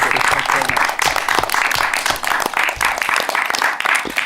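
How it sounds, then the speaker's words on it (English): Dense, sustained applause from an audience fills the room, close and loud with uneven bursts of clapping throughout; a little voice activity may sit beneath it. "Should we have a round of applause actually for it?"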